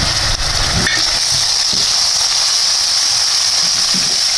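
Sliced onions with garlic-ginger paste fry in a pan for chicken keema pulao, a loud, continuous sizzle with faint stirring scrapes near the start, close up and without talk.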